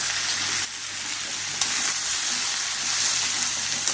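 Rice and vegetables, including seasonal bean pods, roasting in a single pot, giving a dense continuous sizzle with soft scraping stirs, close and fairly loud throughout.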